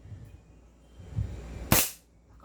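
One sharp, loud crack from a KP06 gas pistol firing a single shot, following brief handling noises and then fading quickly.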